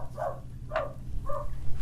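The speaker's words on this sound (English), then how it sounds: "My dog is now barking at the truck" A few short dog barks, three separate yelps spaced apart, moderately close, over a low steady hum.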